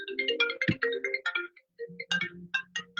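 A phone ringtone plays a bright, repeating melodic pattern, fairly loud and close, during a committee meeting, with a short pause partway through before the tune resumes.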